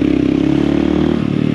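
A loud motorcycle engine, likely a Yamaha XJ, holding a steady throaty rumble close by, with a slight dip near the end.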